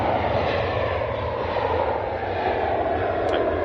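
A Ryanair Boeing 737 departs Manchester Airport for Milan, its engines making a steady, broad roar that holds at an even level throughout, heard from a distance without any talk.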